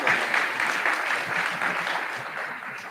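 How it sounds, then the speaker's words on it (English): An audience at a college fall convocation gives a round of applause, a continuous, moderately loud patter of many hands that tapers off gradually toward the end. "All right, give him a round of applause."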